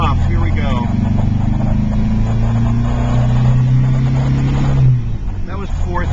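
A 1972 MGB GT engine hums steadily and climbs in pitch as it revs to about 4,000 RPM while driving on a twisty road, loud and close, with a voice speaking over it.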